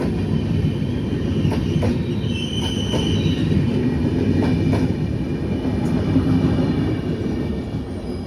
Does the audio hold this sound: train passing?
yes